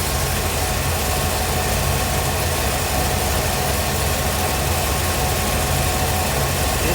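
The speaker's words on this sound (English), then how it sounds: "especially with the way it's idling and the way it's picking the throttle up" A carbureted engine idles steadily with a constant low rumble, close and loud throughout, and no voices.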